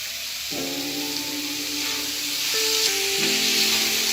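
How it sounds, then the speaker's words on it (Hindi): Finely chopped tomatoes sizzle in a frying pan for a chicken curry, giving a steady, loud, hissing fry that runs throughout, while faint tonal background hums and music-like notes shift beneath it. "तो अब मैं इसमें बारीक कटा हुआ टमाटर डाल दूँ।"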